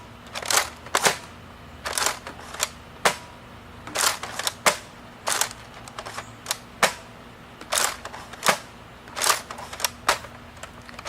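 Nerf Doominator blaster firing foam darts, a long run of sharp mechanical snaps in uneven bursts, some in quick pairs, close and fairly loud against a faint steady hum, with no talking.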